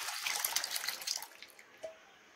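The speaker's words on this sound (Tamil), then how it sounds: "இப்போ மறுபடியும் தண்ணி ஊத்தி நான்" Water splashes and pours into a burnt steel milk vessel in a kitchen, a soft close trickle that tapers off, followed by a brief small clink.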